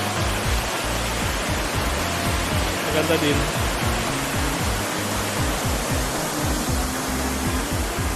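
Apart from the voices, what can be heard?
waterfall at Uvas Canyon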